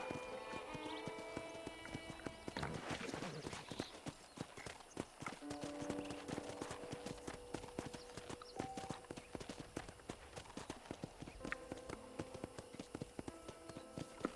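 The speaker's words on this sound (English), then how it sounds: "let's see if you can still ride a horse" Steady clip-clop of horse hooves trotting at an even pace in Red Dead Redemption on PS5, with a brief whinny and some faint game ambience behind it.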